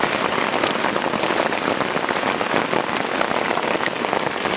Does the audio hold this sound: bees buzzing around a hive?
no